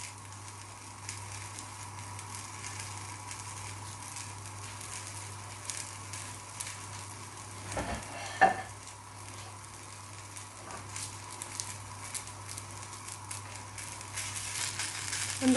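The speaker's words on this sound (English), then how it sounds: "Sizzling kebabs, ready to serve." Seekh kebabs sizzle on a hot sizzling plate, a faint, steady crackling hiss with occasional small pops, heard alone without voices.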